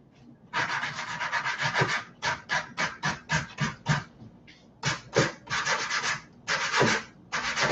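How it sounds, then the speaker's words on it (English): A soft, flexible sanding block scrubs across painted wooden furniture to distress it, heard as close, loud bursts of rough back-and-forth rubbing, some long and some short, with brief pauses between strokes. "I'm going to grab my soft sanding block."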